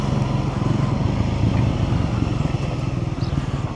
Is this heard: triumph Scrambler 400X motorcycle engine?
yes